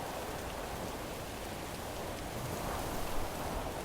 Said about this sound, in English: A storm like this, we could get some nasty wind and hail.